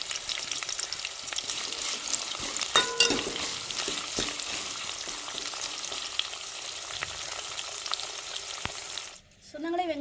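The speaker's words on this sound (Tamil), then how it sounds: "வெங்காயம் பச்சை மிளகாலாம் வதங்கி வந்துருச்சு" Chopped onions and green chillies sauté in a pan with a steady, close sizzle and occasional scraping stirs for about nine seconds, then the sound cuts off abruptly.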